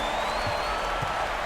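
A basketball arena crowd in NBA 2K24 applauds during a Timberwolves versus Pelicans game, a steady roaring wash of cheering and clapping that fills the short stretch.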